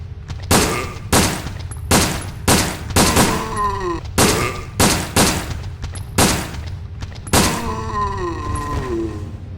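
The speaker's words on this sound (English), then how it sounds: "I'm gonna test the handgun on a standard zombie." A handgun fires about ten evenly paced shots at a standard zombie in Resident Evil: Dead Aim, each crack loud and close, with groaning between shots.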